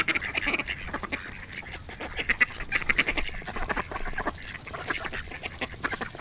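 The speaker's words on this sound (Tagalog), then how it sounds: "Itik na mga wild duck dito." Wild ducks quacking at a farm, a busy flock calling repeatedly in overlapping bursts, steady and fairly close with no talk.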